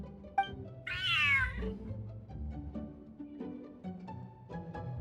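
A cat meows in a video game, one long rising-and-falling cry standing out loud and close over a bed of game music and ambience.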